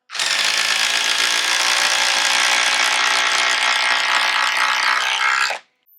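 A 12-volt impact driver drives a 4-inch TimberLOK screw in one loud, steady, close hammering rattle that runs for over five seconds and then stops abruptly.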